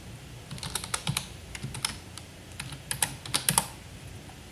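Fast, irregular keystrokes on a computer keyboard while code is typed, close and crisp with short pauses between bursts and no talking.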